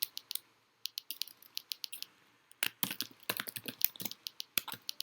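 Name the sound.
typing on a computer keyboard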